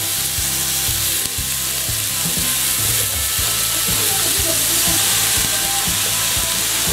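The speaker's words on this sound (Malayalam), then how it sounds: "കടുക് പൊട്ടിത്തുടങ്ങുമ്പോൾ നമ്മൾ ഗ്രേറ്റ് ചെയ്ത് വെച്ചിരിക്കുന്ന പപ്പായ ഇതിലോട്ട് ഇട്ട് കൊടുക്കുകയാണ്" Grated raw papaya tossed into hot oil with spluttering mustard seeds, alongside crushed coconut, green chilli and small onions, for a Kerala papaya thoran: a steady loud sizzle with dense crackling pops running through, no voices.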